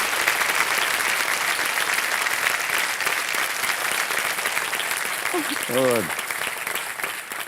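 Studio audience applauding steadily throughout on a Hindi quiz game show set, with a host's voice briefly speaking near the end.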